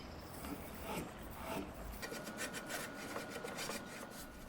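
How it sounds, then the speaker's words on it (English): A hand scraper rasps along the rough edges of a Lane Acclaim cedar chest where the trim was glued on, giving a quiet, close series of scratchy strokes. "I also had to scrape the rough edges where the trim was glued on"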